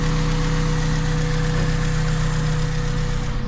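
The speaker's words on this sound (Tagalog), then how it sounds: "Tahimik ng makina guys, tahimik." A Honda Civic engine idles steadily with a low, even hum and faint mechanical ticking, close by and unchanging throughout.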